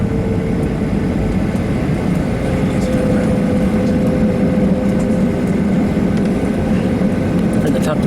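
An airliner taxis toward departure, heard from inside the cabin as a loud, steady low engine drone with a faint whine, continuous throughout, while voices speak quietly beneath it.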